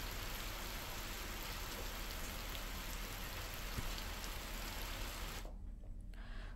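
Heavy monsoon rain falls in Sukma, Chhattisgarh, a loud, steady downpour drumming on surfaces with a faint engine hum beneath, ending abruptly near the end.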